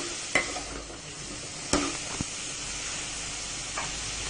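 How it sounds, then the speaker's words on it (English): Cauliflower sabji sautéing in a pan, Maharashtrian style, with a soft continuous sizzle and a few sharp spatula clicks against the pan, close by with no voices. "And saute this for 7 to 10 minutes."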